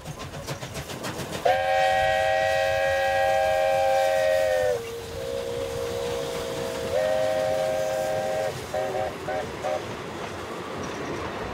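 A steam train on the Mngeni Steam Railway rumbles along while a loud multi-tone whistle blows long, then shorter blasts, ending in a few quick toots.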